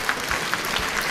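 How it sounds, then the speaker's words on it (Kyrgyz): An audience claps steadily for a school team named Altyn Beshik, a dense, even patter of many hands that holds at the same level throughout, with no voices on top. "Кол чаап коелу командабызга."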